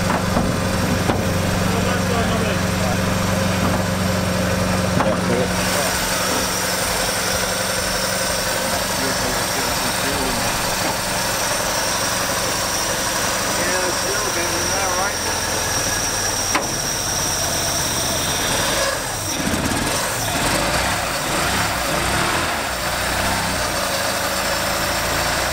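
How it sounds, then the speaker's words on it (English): Opel Manta engine idling after a carburettor rebuild, a steady close mechanical drone running throughout with a slight change partway, while people talk over it. "so the engine runs, everything's good"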